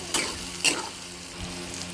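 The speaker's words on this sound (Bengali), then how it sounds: "পেঁয়াজটা এখন ভাজা হবে" Onions frying in hot oil give a soft continuous sizzle, with two sharp scraping or clinking stir strokes early on, close by and without voices.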